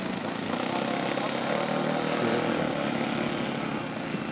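Twin-engine radio-controlled aerobatic seaplane with both engines running, a steady, continuous buzzing drone at moderate distance that holds throughout with little change in pitch.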